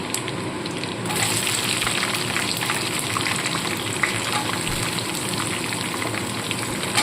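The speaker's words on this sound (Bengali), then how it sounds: "এবার এর মধ্যে আমি যে পেঁয়াজ আর ক্যাপসিকামটা কেটে রেখেছি সেগুলোকে দিয়ে দেবো।" Onion and capsicum hit hot oil in a pan with ginger and garlic for chilli soya, and a loud crackling sizzle jumps up after a quieter start, then keeps going close and steady with no talk.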